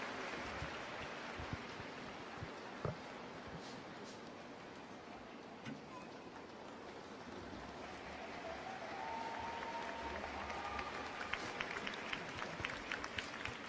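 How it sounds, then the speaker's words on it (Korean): Scattered applause from onlookers at Tottenham Hotspur's preseason training ground, a faint, distant, steady patter of clapping with no talk. "끝까지 뛰고 있는 케인을 향해서 박수가 쏟아집니다"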